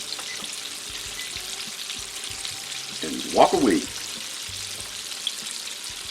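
Chicken sizzles and crackles steadily in hot oil on a stove, fried in the style of Popeyes, with a brief louder clatter partway through and a few words spoken briefly.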